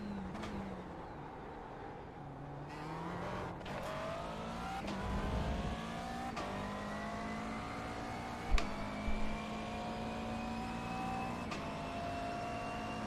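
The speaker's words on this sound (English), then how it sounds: "So damn quick the Mercedes is." Mercedes race car in iRacing at Spa-Francorchamps, its engine droning steadily and climbing in pitch through long gear pulls, with a few sharp clicks of gear shifts, heard up close and alone.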